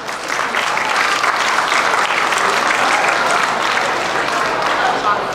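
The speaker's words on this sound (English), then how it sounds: "Let's give another round of applause" Sustained applause from a school talent-show audience, steady and dense for the whole stretch, with no speech over it.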